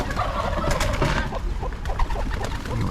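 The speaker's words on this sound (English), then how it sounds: "Mama hen here." A mother hen with her chicks clucks in a pigeon loft, soft repeated low clucks and murmuring calls close by over a busy background of other birds.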